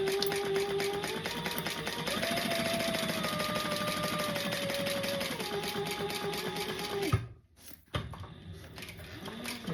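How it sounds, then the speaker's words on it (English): A sewing machine stitches a 1/4 inch seam allowance, its steady rapid mechanical whirr running continuously and close, with slight changes in speed, before a brief stop and restart near the end. "now we are going to sew this together and not sew the top at just a 1/4 inch seam allowance."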